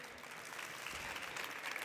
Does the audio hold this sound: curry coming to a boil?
no